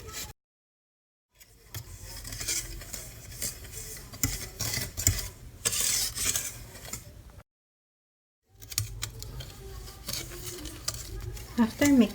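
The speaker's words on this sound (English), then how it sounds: "mix it well." Baking soda, baking powder and salt being stirred together in a bowl for a chocolate cake, a steady scratchy patter of scraping that pauses twice and resumes, with a voice present.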